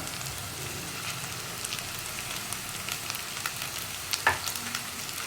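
Grated coconut, dried red chillies and onion stirred in a frying pan for Kerala kadala curry, giving a faint, steady sizzle with soft scraping strokes and one brief sharper clink near the end, no voices.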